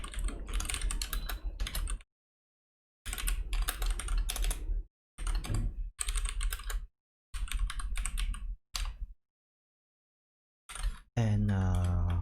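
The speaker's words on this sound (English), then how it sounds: "Let me quickly type it." Rapid bursts of typing on a computer keyboard while entering code, with clustered keystrokes separated by short silent pauses, fairly close and clear, ending in a brief tonal sound.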